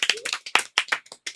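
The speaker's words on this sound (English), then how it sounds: "everybody clap it up" A small group of people clap in short uneven bursts at the close of a game lounge show, sharp close hand claps with brief gaps, a voice faintly audible underneath.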